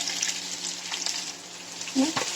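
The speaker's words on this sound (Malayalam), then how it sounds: "ഉള്ളി ഒന്ന് വാടി നല്ല ഒരു വിധം ബ്രൗൺ കളർ ആവുന്നിടം വരെ ഇളക്കി കൊടുക്കാം" Onions with green chili and curry leaves sautéing in a pan for clam meat fry, a close, continuous sizzle with brief stirring scrapes and a small clink near the end.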